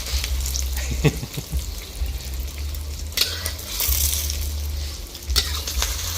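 An omelette with red ant eggs fries in a hot pan, giving a steady, close sizzle. A few soft clinks and stirring scrapes break through, and no one is talking.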